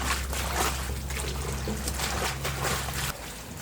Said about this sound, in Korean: 이처럼 물을 받고 고추를 씻고 이런 과정을 3번 정도 반복을 합니다.